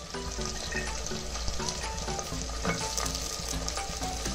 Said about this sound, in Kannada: ಸೊ ಇವಾಗ ನೆಕ್ಸ್ಟು ಬಟಾಣಿ ಹಾಕ್ಕೊತಾ ಇದ್ದಾರೆ, ಹಸಿ ಬಟಾಣಿ ಬರುತ್ತಲ್ವ ಅದನ್ನು.